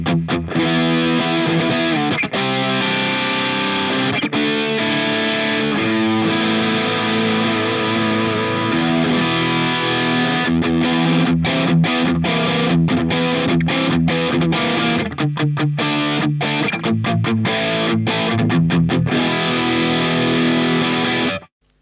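An electric guitar played through an Ibanez SD9 distortion pedal rings out loud and saturated, with strummed chords and riffs broken by short pauses and a cutoff at the very end, and no speech.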